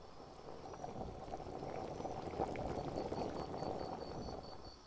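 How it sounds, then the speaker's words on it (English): An ASMR roleplay sound effect of water bubbling as it heats in a stomach: a steady, close gurgling and bubbling wash that runs continuously, with no voice over it. "While I heat the water in my stomach, it warms the outside of my abdomen up."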